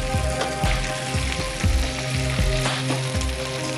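Chicken pieces fry in a pan with a busy, crackling sizzle. A low rhythmic clatter of stirring or the pan shifting runs underneath, close and continuous, with no talk.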